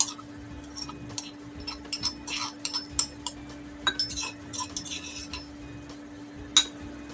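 Sauce ingredients crushed into a paste by hand without a blender, heard as irregular light clinks and taps of utensil against bowl, close and quiet, in scattered bursts.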